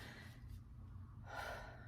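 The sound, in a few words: deep breath taken by the speaker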